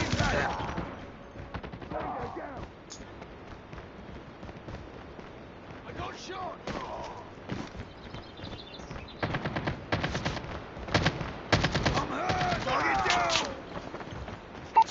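Rapid gunfire in Call of Duty multiplayer, crackling bursts of automatic fire and scattered shots throughout, near and loud, with people talking over parts of it.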